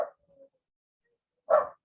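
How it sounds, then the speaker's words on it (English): A dog gives two short barks in a quiet yard, one at the start and another about a second and a half later, fairly close, with a faint whine between them. "Can you hear my dog?"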